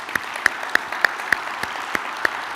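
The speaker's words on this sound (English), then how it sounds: "let's just give her a round of applause and thank her again" Audience at an annual meeting applauding a board chair, with regular sharp claps standing out over a softer wash of clapping, fairly near and steady.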